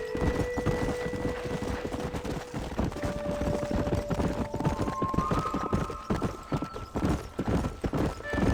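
Horses gallop in the Red Dead Redemption video game, a rapid, continuous clip-clop of hooves with a neigh and tonal game sounds layered above, no talking.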